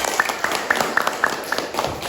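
Hands clap in a classroom coding and artificial-intelligence lesson, a group applauding with bright, fairly regular claps spaced about every quarter second, close and loud over a murmur of children.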